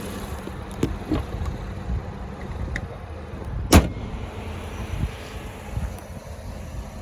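A 2016 Ford Explorer Sport's liftgate closes with a single firm, solid thud partway through, set against steady outdoor ambience and low rumble.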